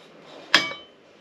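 A cheesecloth and stirring spoon set down into a rice cooker pot of vinegar sterilizing solution give one brief close metallic clink with a short ringing tail, alone in a quiet room.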